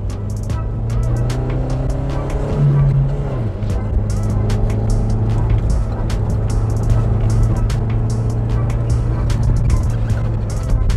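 An Opel Astra F car engine accelerating from inside the cabin, a loud, close hum that rises in pitch, dips at a gear change, then climbs steadily again.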